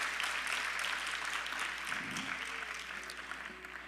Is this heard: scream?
no